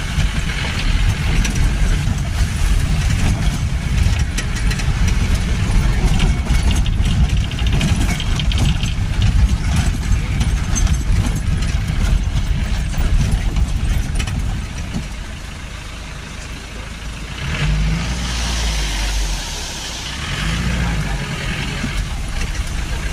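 A car crawls at about 20 to 30 km/h over a rough, heavily potholed mountain road on the way from Manali toward Chandertaal, its engine droning steadily and loudly throughout, with a short lull and a few bumps near the end.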